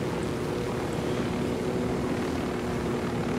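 An airplane in Ghost Recon Wildlands drones with a steady engine roar, a constant broadband hum that holds level throughout with no pauses.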